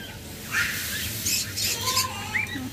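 Pairs of lovebirds, including violet opaline and red-white head varieties, at a bird sale: shrill chirps and tweets come in quick clusters over a low background hum.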